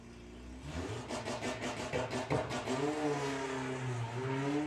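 A drag race car launches at Santa Pod, its engine buzzing in rapid pulses on the line, then roaring up in pitch as it pulls away. The engine is loud and fairly close, with no talk.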